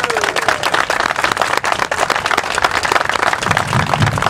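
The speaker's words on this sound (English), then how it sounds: "Please give a big warm applause for Representative Chris Turner." An audience at a town center groundbreaking claps for a state representative, a loud, steady stretch of close applause with sharp individual claps running throughout.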